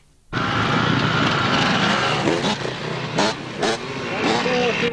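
Dirt bikes race past in a hare and hounds off-road event, one of them a 4-stroke Kawasaki, with a loud engine roar starting abruptly and revving up and down over several seconds.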